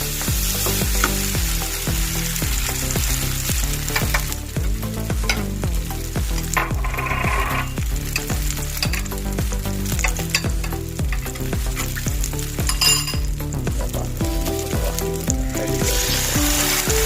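Coriander leaves chutney ingredients frying in a pan, a loud continuous sizzle with regular scraping strokes of stirring close up throughout, no voices.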